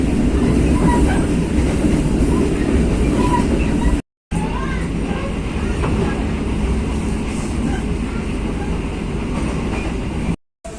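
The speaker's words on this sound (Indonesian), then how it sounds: "Jam 8:33 kereta api Ranggajati telah tiba di stasiun Sidoarjo" The Ranggajati passenger train arriving at Sidoarjo station rumbles steadily with a low, continuous roar and faint rail clatter, loud and close, briefly cutting out twice.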